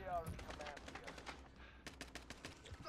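Bursts of Kilo 141 rifle fire in a video game, rapid clustered shots at the start, a brief lull, then another quick volley, with faint game voices in the background.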